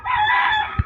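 A rooster crows once at a Filipino breeding farm in the morning, a sustained bright call close to the listener, followed by a brief low thump near the end.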